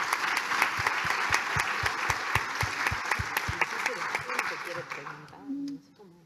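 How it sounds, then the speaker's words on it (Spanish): Audience at a Latin American education forum applauds steadily with dense, sustained clapping and a few distinct nearby claps, tapering off as voices begin to talk. "Un aplauso."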